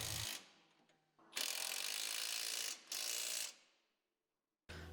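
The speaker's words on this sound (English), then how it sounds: "Next, tighten the lower hardware using a 19mm socket and 18mm wrench" Ratchet clicks from a 19mm socket wrench tightening the lower bolts of a rear limit strap kit on a Polaris RZR RS1, three bursts of rapid ratcheting with pauses between, close and loud, no voices.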